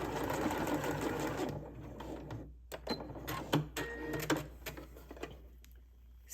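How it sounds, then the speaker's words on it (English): Sewing machine putting a few short back-and-forth stitches through elastic inside a sleeve casing: a close, brisk run of stitching followed by fainter bursts and clicks. "I'm doing a couple of stitches just to hold my elastic in the elastic casing so it doesn't come out"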